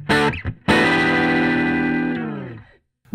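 Meaty guitar chords played through a vintage Sunn 100S tube amp pushed into breakup. A brief stab comes first, then a loud chord rings out and sustains, decaying slowly with a distorted, harmonically rich tone, with no talking.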